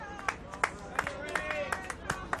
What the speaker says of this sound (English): The crowd just giving Coffs rousing reception as they head in.